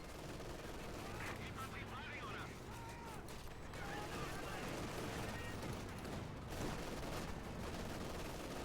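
Bursts of heavy machine gun fire from a .50 cal in a Company of Heroes 2 battle, rattling steadily through a dense, continuous wash of combat noise and other gunfire, with a commentator's voice running over it.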